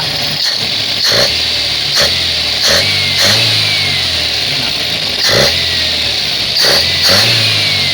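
A carbureted engine with the carburetor plunger fitted is revved repeatedly in close, loud bursts, rising and falling about every second over a continuous running drone.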